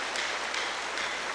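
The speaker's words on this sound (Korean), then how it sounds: "박수로 환영하시겠습니다" A church congregation claps to welcome a newcomer during a Sunday worship service, a short, steady patter of applause at moderate volume with no voices.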